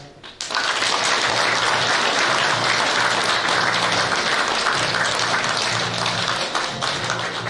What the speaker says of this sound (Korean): 다 함께 축하의 박수